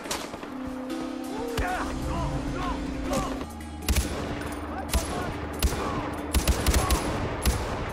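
Gunfire in Far Cry 4: sharp bursts of automatic fire and single loud shots crack repeatedly over a busy battle bed, growing denser and heavier toward the end, with a voice now and then.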